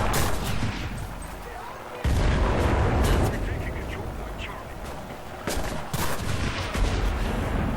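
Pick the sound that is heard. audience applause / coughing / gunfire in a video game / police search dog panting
gunfire in a video game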